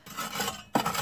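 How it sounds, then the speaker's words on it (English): Shovel raking through ashes in a stove, a brief, quiet gritty scrape in two short strokes, close by. "if I get the shovel and just rake through all the ashes"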